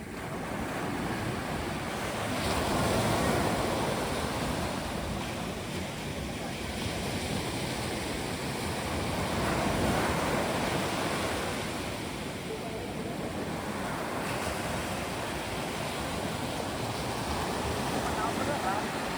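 Sea waves wash onto a beach at high tide in a continuous roaring surf mixed with wind. The surge swells around the third and tenth seconds and never quite settles.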